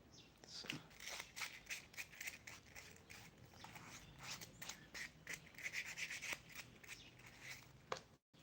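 Smooth sandpaper rubs back and forth along a leather edge for shoemaking, making faint, rapid scratchy strokes in an uneven rhythm, heard close up with no voices.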